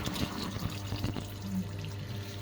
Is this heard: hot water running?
yes